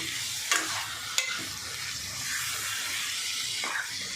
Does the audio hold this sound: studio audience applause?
no